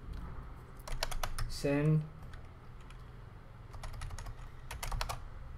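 Rapid bursts of keystrokes on a computer keyboard as a terminal command is typed, close and clear, with a short spoken word partway through.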